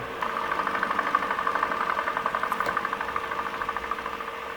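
A tractor engine idles steadily nearby, a continuous mechanical drone with a faint regular pulsing throughout and no voices.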